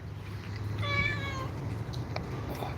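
A single cat gives one clear, drawn-out meow outdoors, with a low steady hum in the background and no talking.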